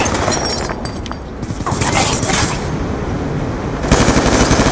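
Dense automatic gunfire from a Black Ops 2 multiplayer match, loud and continuous, with rapid bursts and overlapping shots near and far.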